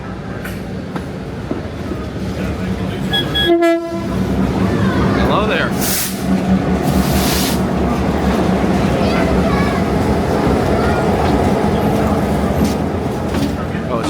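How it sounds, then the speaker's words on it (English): A Great Smoky Mountain Railroad train, its locomotive moving along the mountain line, rumbles steadily nearby with a loud, brief tonal blast early on, while a voice speaks briefly over the rolling noise. "here comes another train"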